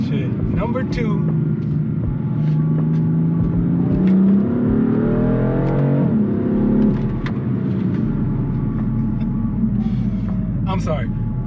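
A BMW M4 engine revs in a steady, throaty rumble, its pitch climbing and sagging through several throttle blips at close range.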